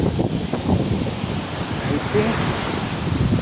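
Surf washing onto a beach, a continuous broad roar mixed with wind buffeting the microphone, with a brief spoken word near the start.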